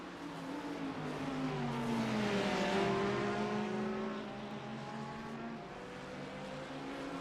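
Race cars in a racing video game at Monza roar past with rising and falling engine pitch, one loud pass swelling in the middle then trailing off, with more engine drone continuing steadily after.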